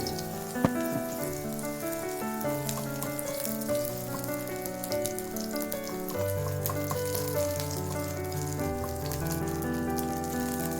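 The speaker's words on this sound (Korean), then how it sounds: "팬에 식용유를 넉넉히 두르고 자로 반죽을 넣고 펼쳐줍니다." Jeon batter mixed from tuna fish sauce, egg and water spreads into plenty of cooking oil in a pan, giving a steady soft sizzle that sits beneath louder melodic background music for the whole stretch.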